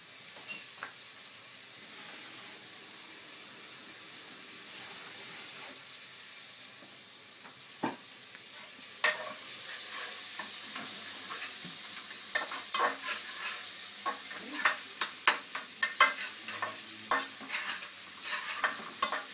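Onions sizzle steadily in a pan, then sharp scraping and stirring clatters grow busier and louder toward the end.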